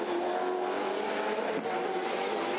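A Supercars V8 race car at Adelaide practice holds a loud, steady engine roar throughout with a continuous high-pitched whine and no pause.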